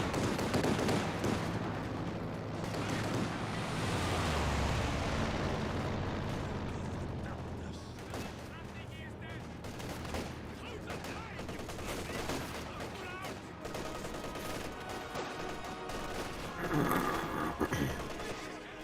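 Aircraft strafing run in Company of Heroes 2, heard as dense, sustained bursts of gunfire and explosions rumbling across the battlefield, with continuous combat noise over the whole stretch.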